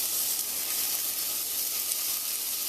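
Ingredients for Caribbean corn cou cou softening in butter in a pan over low heat give a steady, close, continuous sizzle and hiss with no pauses.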